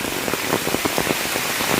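Steady rain falls during mushroom foraging in rainy woodland, a dense continuous hiss with scattered drop patter, fairly loud and close, with no talk.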